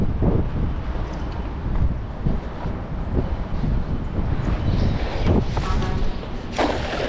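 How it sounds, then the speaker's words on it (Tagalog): Strong gusts buffet the microphone while a fisherman casts a net outdoors, a loud, constant rumbling roar with brief surges, covering any other sound. "lakas ang hangin"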